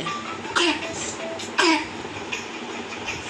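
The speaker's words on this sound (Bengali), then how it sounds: "বাবা কাশি হচ্ছে" A child with a fever and cold coughs twice, sharp bursts about a second apart over a steady rumbling background.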